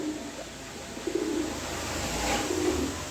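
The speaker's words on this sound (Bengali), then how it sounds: "আমি নটটাকে একটু ডাকায় দেখাই দিলাম দেখেন কিভাবে ডাকে" Male racing pigeon cooing in a couple of short, low murmured coos, close but soft against a steady background hiss.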